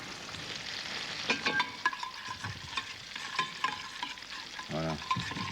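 Chives heating in olive oil in a pan, a gentle close crackle and sizzle with scattered pops and clinks of utensils, plus a short tonal whine near the end.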